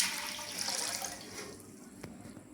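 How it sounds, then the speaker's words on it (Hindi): Water, one to two kilos, is poured into a pressure cooker for Lahori chicken chargha: a close splashing pour that tapers off after about a second and a half, then a brief knock near the end. "मैंने लिया कुकर, इसमें डालते हैं 1 से 2 किलो पानी।"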